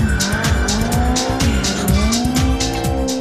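Drifting cars on an Italian race circuit, with loud, close engines revving in rapid repeated pulses while tyres squeal and skid continuously throughout.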